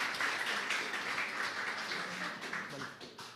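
Audience applause at a startup demo day as the judges are thanked, a soft, steady patter of clapping from a crowd, fairly faint and continuous for a few seconds.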